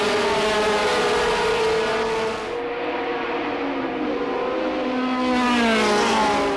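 British Formula 3000 race cars at Oulton Park in 1991, engines screaming loudly as they pass close by, pitch sliding down and then rising again as another car approaches, with no talk.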